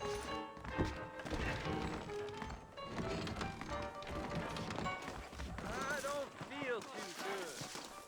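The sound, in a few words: horse hooves clip-clop, video game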